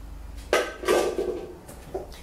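A bowl is taken out in a home kitchen while making raw red pepper purslane guacamole, with a couple of close ceramic clatters and knocks, then quieter handling.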